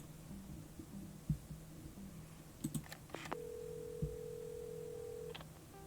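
Dialing a phone in a video game: a few short clicks and tones, then a single long, steady dial-type tone, over a low hum and soft, heartbeat-like thumps.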